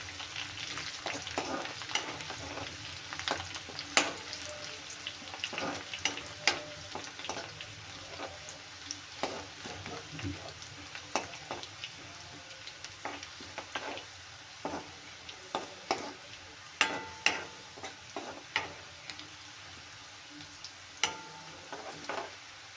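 Garlic frying in hot oil with cumin and mustard seeds for a pickle, a steady soft sizzle broken by frequent small pops and crackles, close and fairly quiet, with no voices.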